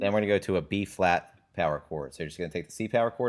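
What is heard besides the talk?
None of the usual background noises is heard.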